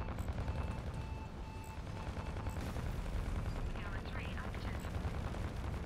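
Rockets launching in the space combat game Fractured Space, a continuous loud barrage of rapid, crackling gunfire-like bursts over a low rumble, with faint tonal beeps and a voice talking underneath.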